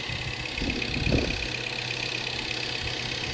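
A Mazda 3 engine idles steadily with a constant hum and faint whine, alone and continuous, with a brief low rumble early on.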